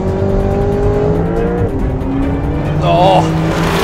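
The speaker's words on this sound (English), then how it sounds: "Supercharger takes on turbochargers in a fight to the death." A Porsche 911 Carrera S and a supercharged Camaro ZL1 in a drag race: loud engines roar and climb through the gears, with rising whines and tire noise, as people shout excitedly over them.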